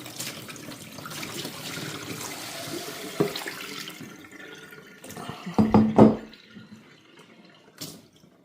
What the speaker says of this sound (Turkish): Bu vazo artık suyunu dökelim.